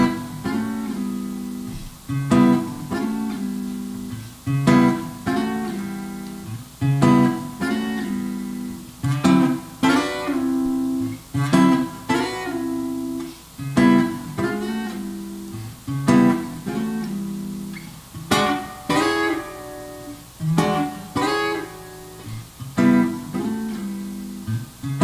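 Acoustic or electric guitar strums ninth chords, including an E ninth, in a steady rhythmic pattern of repeated chord hits, played close and clear with no voice over it.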